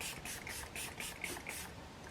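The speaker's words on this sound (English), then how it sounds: "I've been using the We Cherie setting spray," A makeup setting spray is pumped in a quick series of about six soft, airy hissing spritzes at an even rhythm, faint and close with no talking.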